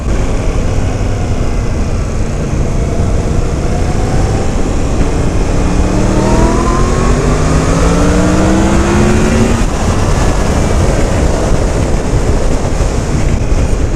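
A 2017 Yamaha FZ-10 motorcycle engine revs while riding, rising pitch sweeps climbing and falling through gear changes over loud, steady wind and road roar throughout.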